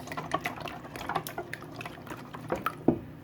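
Buttermilk is poured into a large bowl of dry ingredients, giving close, irregular splashes and glugs of thick liquid with no talk.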